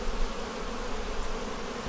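Honey bees crowd a hive frame holding eggs and larvae, giving off a steady, close, even buzzing drone with no voices over it.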